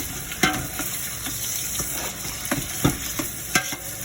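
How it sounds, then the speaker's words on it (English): Spice paste frying and being stirred in a pan, with a continuous hiss of sizzling broken by several sharp scraping stirs, fairly close and with no voices. "Fry the paste. Mix it all up."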